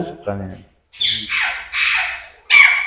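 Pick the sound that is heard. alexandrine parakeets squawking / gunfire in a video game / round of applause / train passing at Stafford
alexandrine parakeets squawking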